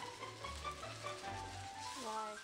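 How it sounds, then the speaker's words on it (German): Potato pancake batter sizzles and crackles steadily in very hot oil in a pan, a continuous close frying hiss with faint background tones and no clear speech. "man darf nicht zu viel auf einmal in die Pfanne reinschmeißen, weil das Öl sehr heiß ist"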